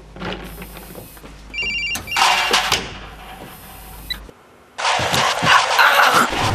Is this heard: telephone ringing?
yes